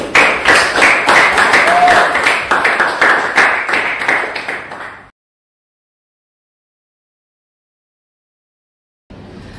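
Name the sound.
classroom applause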